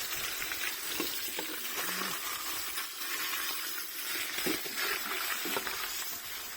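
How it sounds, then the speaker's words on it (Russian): Large chunks of meat for Afghan plov sizzle and crackle steadily in hot oil in a pot, a dense close-up frying hiss with occasional sharper pops and no talking. "Частями жарим"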